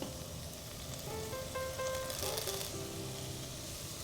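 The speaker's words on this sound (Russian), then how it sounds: "Отправляем томаты на разогретую поверхность." Tomatoes sizzle in butter on a hot frying pan, a steady close crackle with faint background music and tones over it.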